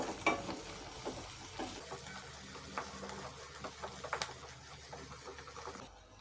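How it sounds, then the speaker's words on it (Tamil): Dried red chillies and brinjal frying together in a pan for gongura chutney, a steady sizzle with a spoon stirring and scraping through it in repeated bursts, close and moderately loud, no voices. "இப்போது ஒரு வாட்டி எல்லாத்தையும் நல்லா ஃப்ரை பண்ணிக்கோங்க."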